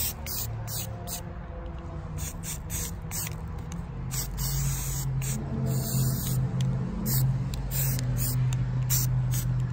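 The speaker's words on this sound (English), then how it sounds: "So here comes the gray spray paint." Gray spray paint hisses onto XPS foam tabletop terrain in a series of short and long bursts, close and sharp, while a voice talks over it.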